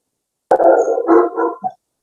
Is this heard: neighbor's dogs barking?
yes